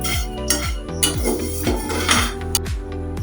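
Semai vermicelli payesh stirred in a pan, with loud, close, rhythmic scraping and clinking of a spoon against the pan at a steady repeating pace, alone without talk.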